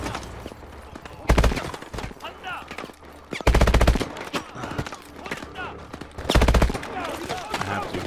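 Bursts of automatic gunfire ring out in Call of Duty: Advanced Warfare, three loud volleys spaced a couple of seconds apart with quieter game sounds between them.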